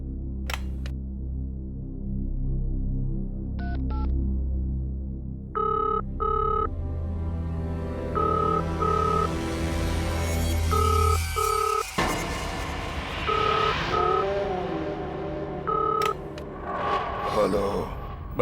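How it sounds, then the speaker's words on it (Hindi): A hotel room telephone rings while a call to reception is placed, with repeated short electronic tones sounding in a steady pattern over a low hum and eerie background music that swells toward the end. "रिसेप्शन पे फोन करता हूँ, कोई तो होगा वहां।"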